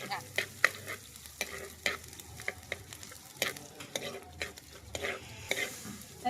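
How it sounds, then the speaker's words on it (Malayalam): Green chilli, garlic, shallots and curry leaves being sautéed in a pan for a Kerala-style fish dish, with repeated close scraping stirs of a spoon over a steady sizzle, no talking. "അപ്പൊ ഇതങ്ങോട്ട് നമുക്ക് വഴറ്റാം."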